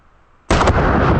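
A single deafening blast from a 500 Magnum revolver fired upside down, erupting after near silence and ringing out with a sustained roar.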